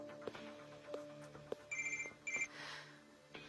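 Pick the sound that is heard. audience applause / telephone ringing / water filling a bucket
telephone ringing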